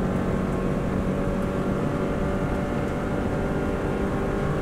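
Subaru WRX STI engine at full throttle on the Isle of Man road course, a steady, dense roar held flat out with no gear change, wind and road noise mixed in, heard from inside the car.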